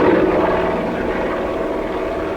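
A Marine Corps AH-1 Cobra attack helicopter, a loud steady rotor and engine drone with a dense rumbling texture, continuous and close throughout.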